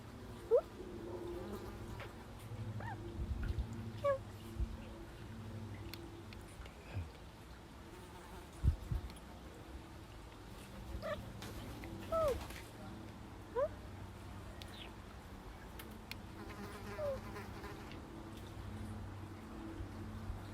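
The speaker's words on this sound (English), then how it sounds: "Yeah, they're flies, but still, just like, wasps." Low, wavering hum of flies buzzing around the microphone, coming and going over faint background noise, with occasional soft voices.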